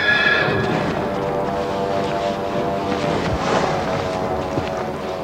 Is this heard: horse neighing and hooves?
yes